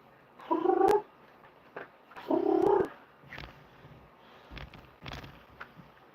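A house cat purrs in close, steady bursts, with two clear rumbling stretches and quieter breathy purrs between them in a still bedroom.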